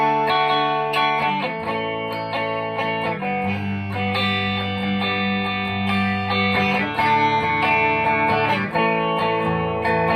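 A 2019 Gibson Les Paul electric guitar played with sustained, layered chords and shifting notes, bright and slightly driven, steady and loud throughout with no talking.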